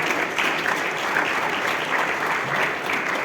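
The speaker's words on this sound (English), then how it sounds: "Ladies and gentlemen, another round of applause." Steady, dense applause from a large audience at a memorial lecture, continuous and even throughout without breaks, loud and filling the hall.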